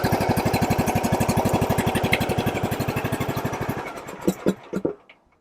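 The engine of a 2011 John Deere D100 riding lawn mower chugs steadily at close range with a rapid, even putter, then sputters through a few uneven pops as it dies out.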